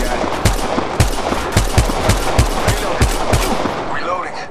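Automatic gunfire from Apex Legends Mobile, a battle royale shooter, rattles out in about nine evenly spaced, sharp, loud bursts, close and punchy, fading into quieter game sounds at the end.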